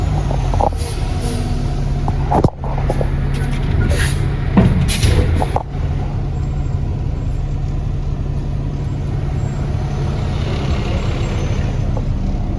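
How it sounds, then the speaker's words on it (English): A dump truck hauling asphalt raises its bed to feed a paver, a loud steady diesel engine drone with air brake hisses and a few sharp mechanical clunks early on. "I'm gonna raise my bed just high enough so that enough asphalt can fall out into the paver so that it can begin pushing it"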